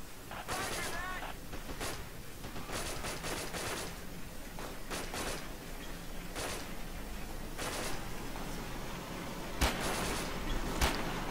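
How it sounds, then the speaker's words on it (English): StG-44 assault rifle firing in the World War II shooter Forgotten Hope 2 in the Hurtgen Forest, sharp repeated shots in short bursts with scattered distant gunfire, fairly faint overall. "SDG-44 firing from over there"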